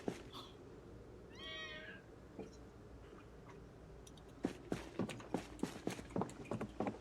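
A pet cat gives one short, rising meow early on, close and fairly quiet, against a soft room background. Light scattered ticking and tapping noises follow.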